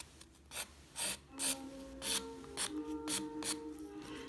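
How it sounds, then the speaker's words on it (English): Nail file rasping across the underside of a fingernail in about eight short, brisk strokes, close and soft against a quiet background. "It files fairly quickly. I'm gonna do the underside."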